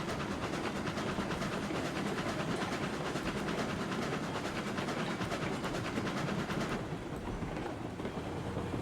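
A train in the game RailRoads Online picking up speed out of town, hauling an oil car, with a dense continuous rumble and rapid clickety-clack of wheels that runs throughout and thins slightly at the end.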